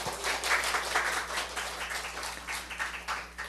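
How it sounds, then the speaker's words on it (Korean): A church congregation in Seoul claps together during a morning service, a moderately quiet, uneven patter of many hands over a low steady hum, gradually thinning toward the end. "우리 하나님께 박수 한번 해드리십시오."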